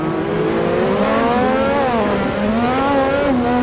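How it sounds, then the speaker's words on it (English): A Lotus 98T turbo Formula One car in Assetto Corsa on the Adelaide circuit, with its highly boosted engine screaming in rising and falling revs as the tyres spin and squeal, loud and continuous with no talk. "So much wheel spin."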